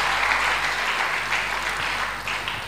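A church congregation applauds during a sermon, a loud, dense wash of clapping from many hands that continues steadily and fades slightly toward the end.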